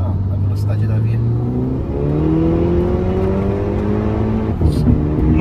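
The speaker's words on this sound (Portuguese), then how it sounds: "E era isso que tava assoviando, mas não era. É a turbina mesmo." A turbocharged Volkswagen Jetta engine revs and climbs steadily in pitch under load, with a turbo whistle riding on top, loud and close with cabin rumble throughout.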